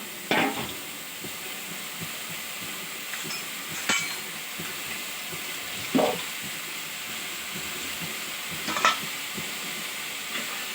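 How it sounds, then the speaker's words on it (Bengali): Snake gourd fries in a pan with black cumin seeds and torn green chillies, giving a soft continuous sizzle with a few sharp clinks of a utensil scraping or tapping the pan. "কালো জিরে ফোড়ন দিয়ে কাঁচা লঙ্কা ছিঁড়ে"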